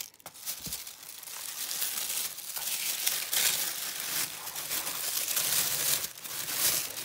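Blue tissue paper wrapping a small package crinkles and rustles continuously and up close, with busy crackling bursts throughout and no talking.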